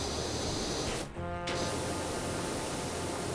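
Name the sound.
pressure washer spraying in the video game PowerWash Simulator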